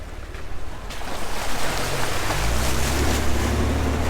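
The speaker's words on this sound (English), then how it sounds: "We're at water crossing number 2." A two-wheel drive vehicle fords a river at a mountain water crossing, with engine rumble building under heavy rushing and splashing water that grows louder and fuller as it pushes through; no talking.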